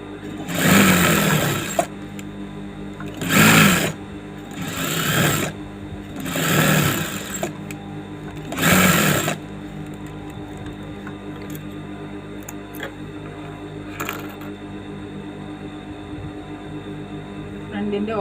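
A sewing machine stitches the lining of a saree blouse front in four or five loud, close bursts of rapid running, each about a second long, with quiet gaps and faint handling between them.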